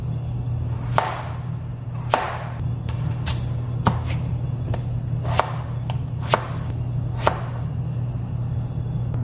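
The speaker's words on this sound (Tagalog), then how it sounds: "So, mag-slice tayo ng potato." Knife slicing potatoes on a cutting board for beef curry, about a dozen sharp, irregularly spaced chops over a steady low hum, close and clear with no talk.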